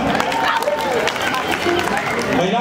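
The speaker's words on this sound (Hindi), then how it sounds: "तो एक बार जोरदार तालियों के साथ आज का कार्यक्रम और हमारे अतिथि का स्वागत करेंगे जोरदार तालियों के साथ" An audience applauds at an ambulance inauguration in Mumbai, a dense, steady patter of clapping under loud talk over a microphone.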